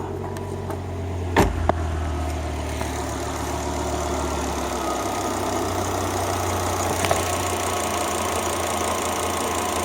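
A Volvo XC90 T5 five-cylinder engine with a misfire idles steadily with a low, uneven rumble and a slight lope, running continuously nearby with a couple of brief clanks early on.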